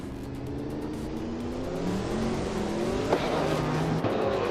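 A 1994 Ford Mustang Cobra races in a video game, its engine droning and revving with rising pitch as it accelerates, steady and fairly close, with a brief sharp knock near the end.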